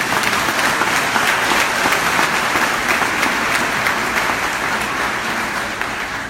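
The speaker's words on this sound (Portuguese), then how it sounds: "dê um aplauso a ele" A church congregation applauds in a steady, dense wash of clapping that stays loud for about six seconds before easing slightly at the end, with no one speaking over it.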